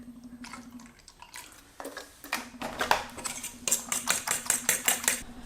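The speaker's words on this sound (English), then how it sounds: "Break 1 egg into a bowl and whisk" An egg whisked in a bowl with a fork or whisk: scattered clinks at first, then a fast, regular metallic tapping against the bowl that grows louder toward the end.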